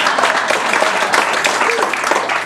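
An audience applauding at a gospel trio concert, loud continuous clapping from a crowd that fills the room, close and sustained to the end.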